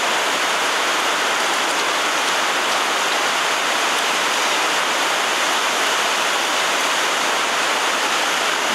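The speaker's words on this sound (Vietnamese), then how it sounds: "Mưa quá mưa mọi người ơi." Heavy rain pours down steadily, a dense, loud, unbroken hiss of water with no pauses and no voices.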